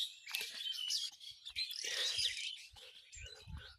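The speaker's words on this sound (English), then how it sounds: "Some birds are shouting out loudly because they feel, I think, happy" Birds chirp loudly and close outdoors, with bright overlapping tweets and calls running steadily throughout, plus a few low knocks in the background.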